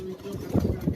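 Banke pigeons coo on a rooftop, a few soft, low throaty calls rising near the end over a faint steady hum.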